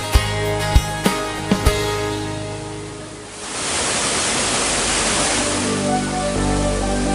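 The waterfall To Magelli Barru in South Sulawesi, Indonesia, fills the scene with a steady roar of rushing, crashing water after a few sharp clicks, loud and continuous.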